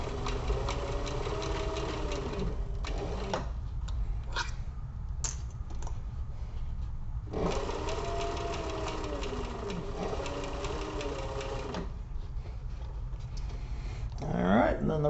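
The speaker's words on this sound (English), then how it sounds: "Now we just sew across it." Sewing machine stitching across a bag handle in bursts, a close mechanical whir with rapid needle clatter that starts and stops, separated by quieter pauses with handling noises.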